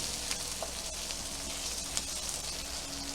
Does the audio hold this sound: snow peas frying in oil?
yes